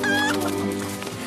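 A chicken on a farm with pigs, sows and piglets clucks loudly and close up in a short, harsh burst of repeated calls.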